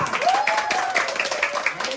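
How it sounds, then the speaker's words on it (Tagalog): A crowd claps and cheers for a contestant named Ayesha at an outdoor community event, steady close applause with shouting voices mixed in. "palakpak tayo na Ayesha!"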